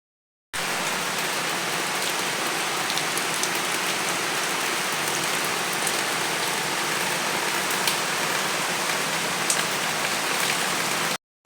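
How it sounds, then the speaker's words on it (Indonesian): Steady rain falls without a break on a simple wooden house, a dense even hiss with scattered drop impacts and no voices. "Pertama tadi aku kasih dengar kalian suara hujan karena aku rindu banget"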